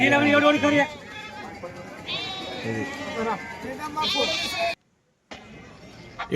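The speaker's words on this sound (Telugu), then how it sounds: "గొర్రెలు మేకల సంత ఇది చూడండి" Several sheep and goats bleat loudly and repeatedly nearby at the Nemmikal livestock market, overlapping with murmuring voices of a busy crowd, then a brief silence.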